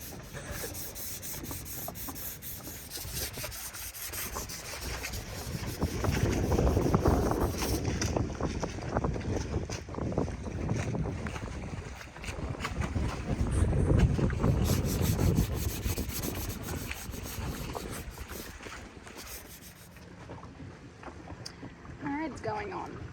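A boat hull being sanded outdoors with a power sander gives a steady grinding rasp that swells and fades twice, with wind buffeting the microphone and faint talk in the background.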